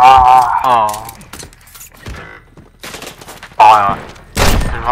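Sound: pistol gunfire in a video game

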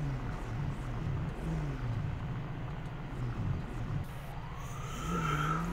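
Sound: police siren in GTA 5 video game

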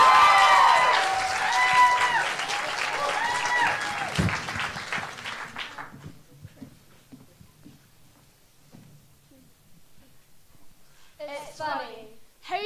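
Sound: audience applause at a poetry slam

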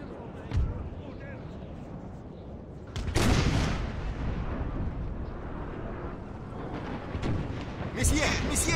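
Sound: cannon fire in video game Napoleon Total War

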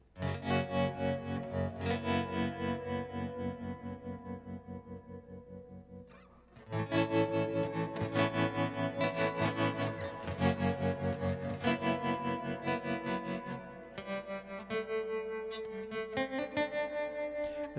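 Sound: Yamaha SLG200S guitar, nickel strings, through tremolo and reverb pedals

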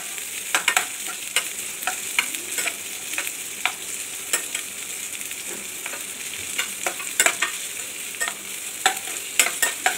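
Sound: onions sautéing in pan for kadai paneer

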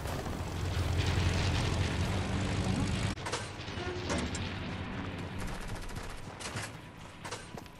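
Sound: airplane in Fortnite video game

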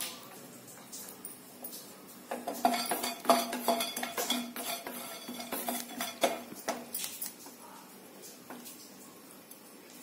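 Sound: roasting cinnamon sticks in a pan for Bisi Bele Bath powder

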